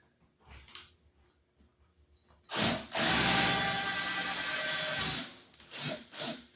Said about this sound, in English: we're going to drill right through that plywood